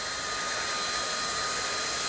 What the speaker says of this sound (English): First we should use one hand hold down the heat gun. Then the machine begins to work.